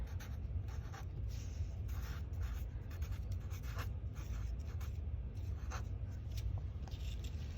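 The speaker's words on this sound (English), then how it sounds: "I'm going to grab a Sharpie and write my name right here" A Sharpie marker writes a name on the front of a painted heart craft, a steady scratchy stroking that runs continuously at close range, alone with no talk.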